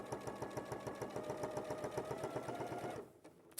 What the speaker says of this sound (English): I'm just going to do top stitching along here.